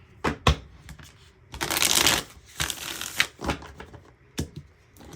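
Tarot cards are shuffled by hand in a series of riffles and flutters, short crisp bursts with a longer dense riffle in the middle, close and clear with no talking.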